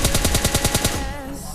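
Rapid automatic gunfire bursts in the video game PUBG Lite, about ten quick evenly spaced shots in a loud close volley that stops abruptly and leaves a brief ringing tail.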